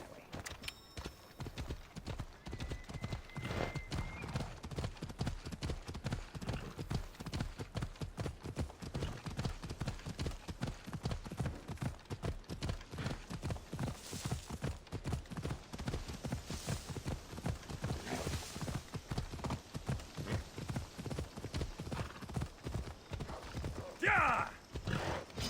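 Rapid, rhythmic hoofbeats gallop steadily and close by in Assassin's Creed Odyssey, with a sharp horse whinny rising near the end.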